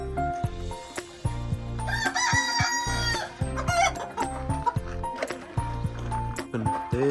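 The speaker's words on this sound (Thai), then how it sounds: "ไก่เม็กซิกัน อันนี้ Mexican Chicken Rooster ตัวนี้มันมีแต่สีงาม" A Mexican rooster crows at a rural farm property, with loud, drawn-out calls sounding over a dense musical backing with heavy low tones.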